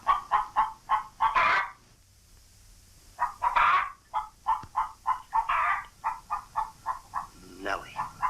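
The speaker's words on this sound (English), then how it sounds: "Lay, hen, lay." A hen clucks in a royal hall, a run of short, evenly spaced clucks repeating in bursts, with a pause in the middle and a louder squawk near the end.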